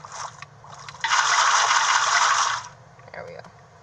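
Water rushes in a video game scene of a flooded building, a loud hissing gush lasting about a second and a half between quieter splashy bursts, with a person speaking faintly before it.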